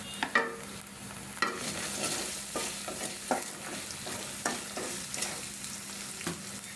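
Bay leaves and cardamom fry in hot oil while a spoon stirs them, with a steady sizzle broken by a series of sharp scraping clicks spaced about a second apart.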